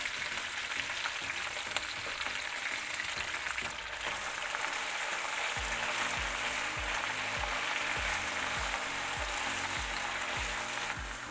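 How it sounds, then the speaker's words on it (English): Fresh spinach, a large batch of about 24 ounces, sizzles and wilts in a hot pan, giving a steady hiss with soft stirring sounds. From about halfway through, rhythmic scraping or tossing strokes join the hiss. "And next we're gonna start cooking down our spinach."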